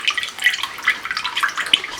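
Water spits and drips from a drained compressed air line in a workshop, a quick run of splashy trickling and dribbling close by, with no talking.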